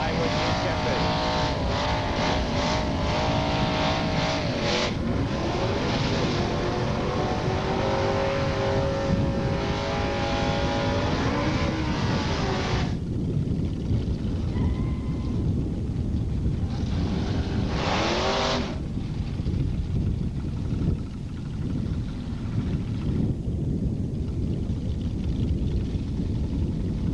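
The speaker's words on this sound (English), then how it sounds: "Tommy Bailey on the pit side Camaro against Raul Garza on the Spectator Nova" A Camaro and a Nova drag racing at Edinburg International Dragway in 1986 sound as loud, revving engines that roar down the strip and fade, while an announcer talks over the noise.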